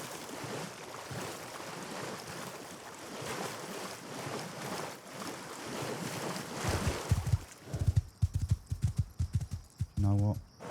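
A horse in the Rust video game moves through water with a washing, wave-like rush, then hooves clop in uneven beats near the end, and a player talks over it.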